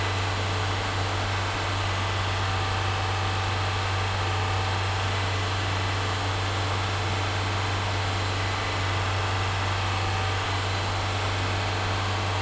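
Honda Element engine idling with its cooling fans cycling on, a loud, steady, broadband whooshing hum with a strong low drone, continuous and unchanging throughout, no voices.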